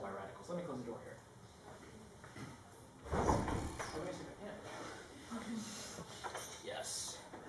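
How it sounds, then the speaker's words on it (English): An indoor door is pushed shut with a single dull thud near the middle, set against steady room noise in a lecture setting, with someone talking before and after. "Let me close the door here."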